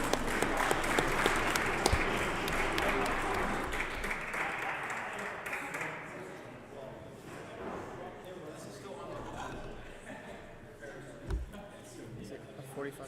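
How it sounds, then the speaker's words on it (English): Audience applause at a robot combat event after a knockout win, a loud dense burst of clapping that fades over several seconds into crowd murmur and voices, with a few thumps near the end. "Can we get a round of applause?"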